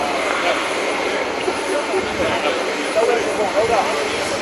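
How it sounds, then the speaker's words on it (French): A steady, roaring aircraft engine drone from the presidential plane landing at Bamako-Sénou airport fills the whole stretch, broad and continuous, with a voice speaking over it. "Son avion atterrit ce 7 avril à l'aéroport de Bamako-Sénou à 16h40 GMT."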